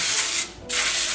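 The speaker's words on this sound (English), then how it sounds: "we're just gonna spray this pan" Two bursts of aerosol cooking spray hiss onto a baking pan, separated by a short pause.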